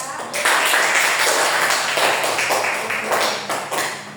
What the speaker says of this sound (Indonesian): kita beri aplaus untuk diri kita